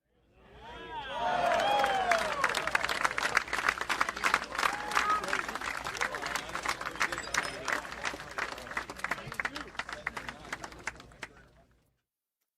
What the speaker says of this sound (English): I'm going to make the clapping sound if I have to